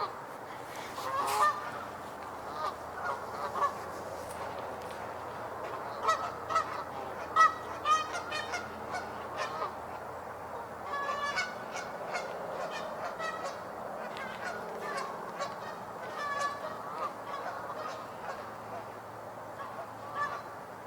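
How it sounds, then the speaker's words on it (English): A flock of geese honks repeatedly in scattered, overlapping calls, fairly distant, continuing throughout over a quiet outdoor background. "think I might hear more geese coming in."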